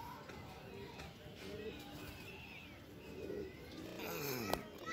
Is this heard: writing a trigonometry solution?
no